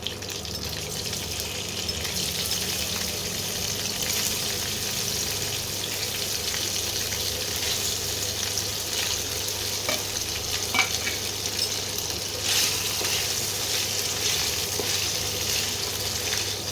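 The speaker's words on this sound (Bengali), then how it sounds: "এবারে আমি এই তেলের মধ্যেই পনিরগুলোকে হালকা করে ভেজে নেব।" Paneer pieces lightly frying in oil in a home kitchen for masala paneer, a steady soft sizzle running throughout with occasional faint stirring clicks, alone and fairly close.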